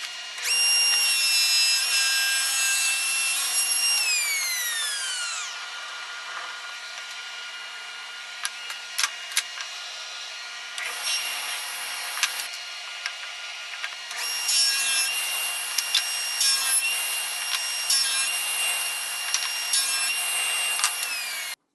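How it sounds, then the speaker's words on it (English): Thin wood strips are ripped one after another from a scrap 2x4 on a thin-strip jig, a power saw whining loudly through each cut with short knocks and pauses between passes, and no talking. "There you have 4 little quick thin strips done quickly, easily, no muss, no fuss, and all I used was an old scrap piece of 2x4"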